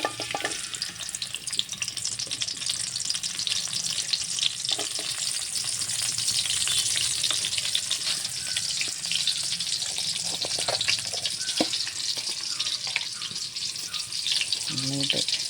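Onion fries in hot, bubbling oil with a loud, busy crackle, broken by repeated clicks and scrapes as a spatula stirs it.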